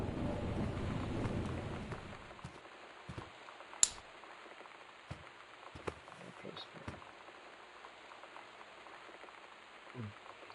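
Thunder and rain in the video game Gone Home: a low rumbling wash opens, then fades to quiet with sparse, scattered drips and taps.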